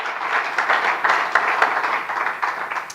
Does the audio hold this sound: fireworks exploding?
no